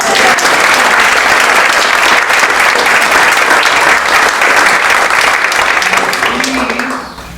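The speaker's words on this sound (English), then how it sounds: "a little round of applause for Marcella Rose Catering?" A loud, dense round of applause from a gathered audience for Marcella Rose Catering, many hands clapping continuously before tapering off near the end.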